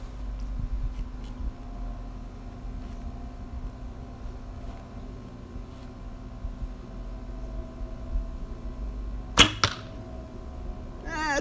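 Arrow from a traditional bow striking a target, a single sharp impact late in the moment against a quiet, faintly humming background, with no talk.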